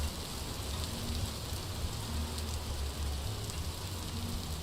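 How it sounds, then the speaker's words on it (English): Steady rain falls in the video game Vintage Story, a constant dense hiss of drops on surfaces at even loudness throughout, with no voices. "Okay, I guess we're just stuck in the rain for now."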